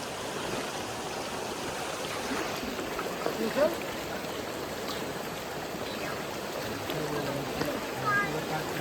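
Water rushes steadily as a Ganesh idol is submerged for immersion. The flow keeps up a continuous stream-like wash, with voices in the background.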